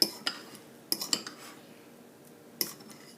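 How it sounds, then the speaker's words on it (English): Mashed bananas are scraped and stirred into banana bread batter, with a handful of sharp clinks and scrapes of a utensil against the bowl over low background quiet. "And now I'm going to add the rest of the bananas"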